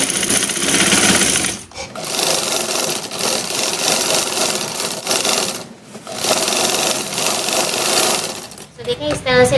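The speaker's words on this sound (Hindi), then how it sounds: "अब इसको सिलाई लगा लेते हैं।" A sewing machine stitches a boat neck on a garment in long loud continuous runs of rapid mechanical whirring, pausing briefly twice between bursts.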